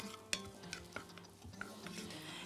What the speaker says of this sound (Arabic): نحطها كلها كده بعد ما قطعناها. ونقلب كويس